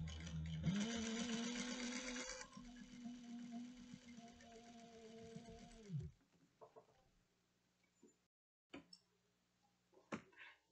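A home sewing machine bastes the seam on a cross-body sling pocket, running steadily for about five seconds before stopping, followed by a few faint clicks and fabric handling sounds.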